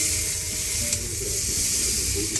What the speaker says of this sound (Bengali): ভালো করে আমি কষিয়ে নেব